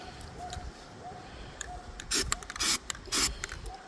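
Rust being scraped off a part of a Frigidaire refrigerator that is not cooling, heard as three loud, rough scraping strokes in the second half, with faint scratching before them.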